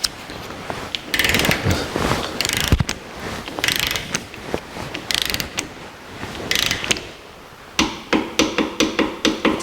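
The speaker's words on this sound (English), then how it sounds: "Put the new lock nut on. And torque it to 45 foot-pounds." A new lock nut torqued to 45 foot-pounds with a torque wrench, heard as a run of sharp metallic clicks and ratcheting bursts, close and loud, ending in a quick regular series of clicks.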